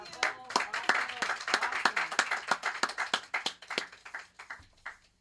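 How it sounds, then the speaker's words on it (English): An audience applauds a performer at a live poetry and play event, a fairly quiet crowd clapping with distinct individual claps that thin out toward the end. "Everyone, another round of applause for Venus Jones."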